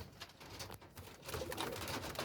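Pure Kasuri and golden pigeons coo softly close by, low throaty calls in a short run over a faint background rustle.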